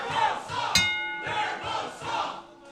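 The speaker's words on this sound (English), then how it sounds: "There's the bell as the match gets ready to start, and this crowd is already well involved." A wrestling match bell rings once with a sharp, lingering clang amid a lively crowd whose rhythmic chanting swells and dips around it.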